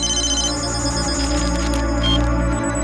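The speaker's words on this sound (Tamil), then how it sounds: "அபிராமி மேடம் ஃபோன் பண்றாங்க." A telephone rings with an incoming call in a Tamil TV drama scene, a steady repeating ring filling the clip at moderate loudness with no talk over it.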